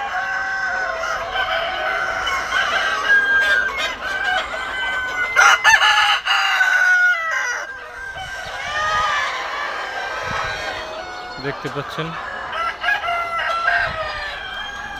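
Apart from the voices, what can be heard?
roosters and hens crowing and clucking on a poultry farm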